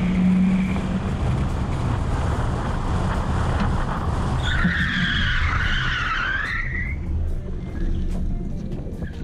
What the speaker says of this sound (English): officers were able to practice their driving skills, pursuit tactics, and tactical vehicle intervention aimed at bringing a pursuit to an end